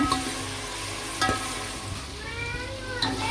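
Onions frying in a pan until browned, a steady sizzle running throughout with a few brief clinks of a utensil against the pan and faint tonal sounds in the background.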